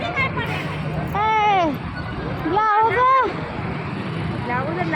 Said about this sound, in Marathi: किती गर्दी झाली आहे.